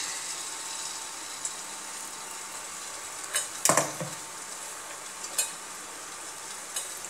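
Appam batter ladled into hot oil sizzles steadily from start to finish, with a brief, louder burst of crackling spatter partway through and a few faint clinks of a utensil. No one speaks.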